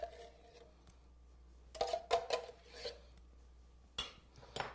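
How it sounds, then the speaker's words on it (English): A pan or can from making ham and Swiss casserole and cherry bars is scraped out with a utensil: faint scraping and a few clinks in bursts, with a louder clatter near the end, quiet and close. "I'll get the pan or the can cleaned out here"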